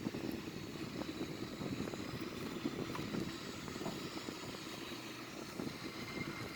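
Boeing 787-900 turbofan engines spooling up, heard as a steady, continuous roar with a broad rumbling hum that holds at an even level throughout, with no voices over it.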